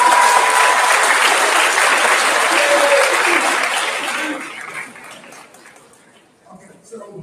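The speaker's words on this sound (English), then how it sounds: "give them a round of applause." Students and families at a middle school graduation give a loud round of applause that fades over several seconds, with chatter rising underneath as the clapping dies away.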